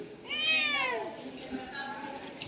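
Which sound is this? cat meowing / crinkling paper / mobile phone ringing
cat meowing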